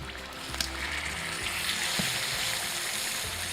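Meat frying in oil in a kazan over a wood stove: steady, moderately loud hiss and sizzle with a few soft pops, no speech.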